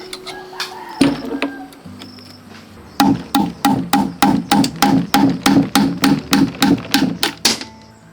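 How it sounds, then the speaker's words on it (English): A rubber mallet knocks apart the case of a Daewoo transmission, first a few scattered thuds, then a rapid run of about fifteen loud, evenly spaced blows close by. "The step transmission case is separated with a rubber mallet"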